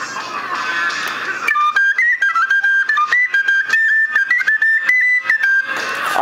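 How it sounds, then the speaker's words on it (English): A tin whistle plays a lively melody of quick, clipped notes, close and fairly loud, with brief gaps between phrases. "This is my tin whistle"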